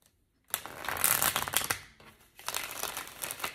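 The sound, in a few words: shuffling tarot cards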